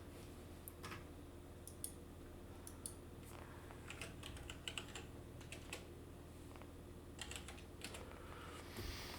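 Quiet bursts of typing on a computer keyboard, with irregular clusters of key clicks and short pauses over a low steady room hum.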